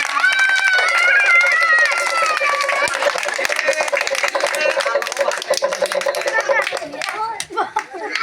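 A group claps their hands together in a rhythmic, fairly close patter while voices chatter and call out over the clapping, which loosens and thins toward the end.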